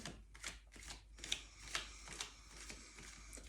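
Tarot cards being shuffled and drawn during a Virgo love reading, a faint, quick run of riffling flicks and soft card slaps close to the microphone, with no talk.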